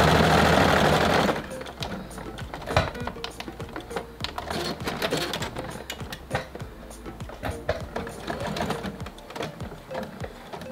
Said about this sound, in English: I do like a forward and back stitch, and then I just go and stitch everything down